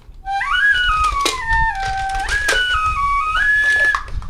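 A whistle is blown in a series of close, bright tones that slide up and down in pitch, some with a warbling trill, loud and clear.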